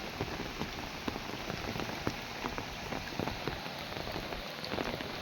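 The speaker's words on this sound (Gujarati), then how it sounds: "આજે ઠીકરિયાળા ગામમાં ધોધમાર વરસાદ" A heavy downpour in a Gujarat village patters steadily and densely on surfaces, a continuous even rush of raindrops heard alone without talk.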